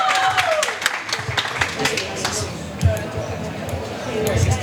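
Audience at a storytelling event applauding, a short burst of scattered clapping that stays fairly loud throughout, with a voice speaking over it.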